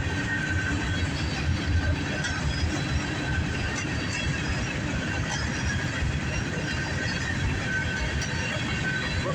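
A northbound CSX grain freight train with hopper cars rolls past in Dayton, Ohio, its steady rumble and rattle of wheels on rail continuing throughout, with faint squeals above the constant roar.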